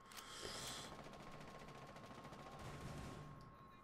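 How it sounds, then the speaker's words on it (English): Rapid bursts of gunfire in a ranked Rainbow Six Siege match, fairly loud and dense, with sustained automatic shots that rattle on for nearly four seconds before easing off. "Where are they shooting from?"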